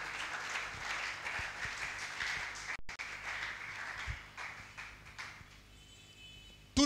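A church congregation applauds, sustained soft clapping from many hands that thins out and fades toward the end, fairly distant and quiet.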